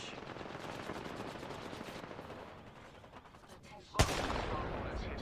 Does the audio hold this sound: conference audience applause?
no